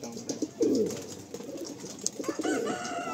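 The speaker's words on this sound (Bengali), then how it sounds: "প্রতিটা পায়রাই কিন্তু একদম বাছাই করা পায়রা" Pigeons coo steadily in a loft of selected birds kept for sale, several soft throaty calls overlapping in bursts close by, with faint chirps between them.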